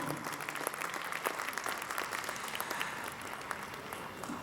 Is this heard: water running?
no